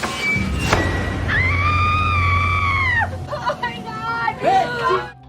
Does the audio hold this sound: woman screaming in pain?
yes